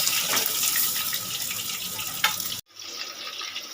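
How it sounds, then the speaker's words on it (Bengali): Vetki fish frying in oil in a wok, a steady broadband sizzle and crackle that runs for over two seconds, cuts out abruptly, then resumes more quietly; no one speaks. "কড়াইয়ের মধ্যে মাছ দিয়ে দিয়েছি মাছগুলো ভেজে নেব"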